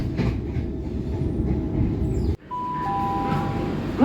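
A c2c passenger train rumbles along the rails near Limehouse, London, with a steady low roar, then the sound shifts and a high electronic whine rises over the running noise.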